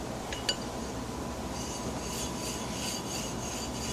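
Harbor Freight #33 plane iron rubbed on a sharpening stone, a soft continuous rasping with a faint clink near the start and gently pulsing scrape strokes, fairly quiet and without talk.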